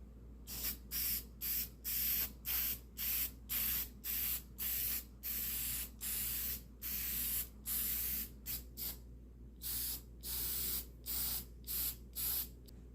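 Finish is sprayed onto wooden butcher blocks in a long series of short, sharp hissing bursts, each lasting under a second with brief pauses between, fairly close and unaccompanied by talk.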